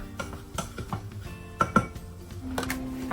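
Metal utensil stirring and scraping fried rice with eggs inside a pressure cooker pot, a series of irregular clinks and knocks against the metal walls, with a few sharper ringing taps, close and moderately loud.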